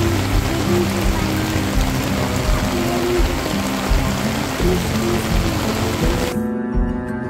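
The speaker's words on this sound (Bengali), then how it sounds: "দেখুন কত বৃষ্টি" Heavy rain pours in Lalmonirhat, a dense continuous hiss of drops hitting surfaces, loud and steady before cutting off near the end, with faint voices underneath.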